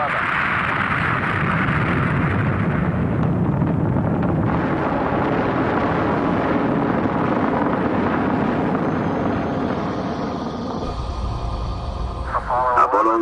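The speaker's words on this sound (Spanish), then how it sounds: "El Apolo 11 está despegando." Apollo 11 rocket launch: a loud, continuous, rumbling roar that fills the whole stretch and fades slightly near the end as a radio-like voice comes in over it.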